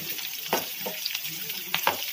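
Onions sautéing to golden brown in a pan with green chili and curry leaves for beetroot rice, a soft continuous sizzle with scattered stirring scrapes and clinks, fairly quiet.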